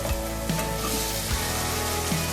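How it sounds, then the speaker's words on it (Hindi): Steady loud sizzling of half a kilo of beef liver frying in ginger garlic paste, with occasional clinks of stirring. "अदरक और लहसुन के पेस्ट में हम 5 मिनट के लिए भूनेंगे"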